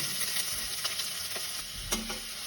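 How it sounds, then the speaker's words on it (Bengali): Sliced onions and cumin seeds sizzling in hot oil in a pan while cooking a vegetable dish, a steady close hiss broken by a few clicks of the spoon stirring, with no voices. "ছোট্ট এক চামচ জিরে ফোড়ন দিলাম পেঁয়াজ দিয়ে দিলাম"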